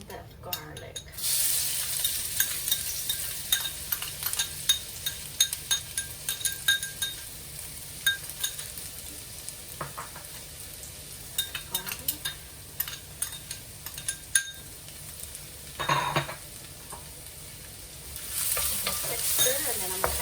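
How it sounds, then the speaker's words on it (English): Shallots and garlic fry in a smoking-hot pan for a pasta stir fry, a steady loud sizzle lasting throughout, broken by frequent scrapes and stirring clinks of a utensil against the pan. "once it starts smoking, I'm going to add the shallots and the garlic."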